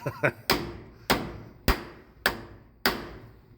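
Five sharp hammer taps land at a steady, unhurried pace, each a crisp metallic knock close by, preceded by a couple of lighter taps, as a transmission output shaft seal is tapped into place.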